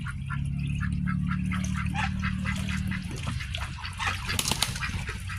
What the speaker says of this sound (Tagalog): Doon sa kabila naman yung ating breeder na Peking duck